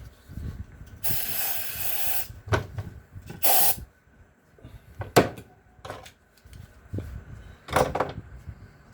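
Several sharp hissing sprays from an aerosol can of brake cleaner onto a small hydraulic cylinder, one long burst followed by shorter bursts, with clicks and handling noises between them, close by.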